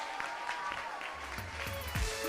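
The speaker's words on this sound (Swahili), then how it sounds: "Hebu pigeni makofi" An audience at a church youth seminar claps in scattered bursts, the applause uneven and fairly close, with a few voices and low thumps mixed in.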